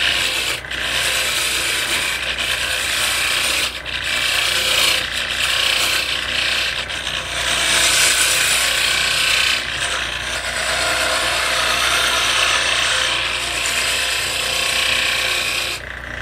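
A wooden tool handle is spindle-turned on a lathe, the gouge scraping and rasping continuously against the spinning wood in close, loud, uneven bursts.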